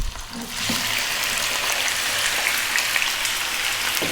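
Mutton pieces frying in hot oil over above-medium heat with peppercorns, bay leaves, dried red chili and green cardamoms, a steady dense sizzle close by after a soft start.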